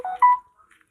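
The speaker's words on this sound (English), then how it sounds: "oh, that's the phone." A Samsung Galaxy S10 phone gives a brief electronic tone, one short steady beep that fades quickly into silence.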